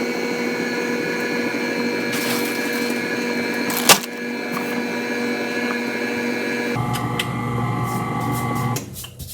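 An electric mixer churning chocolate chip cookie dough as flour is added, a steady loud motor whine with a sharp knock near the middle and a shift in pitch before it cuts off at the end.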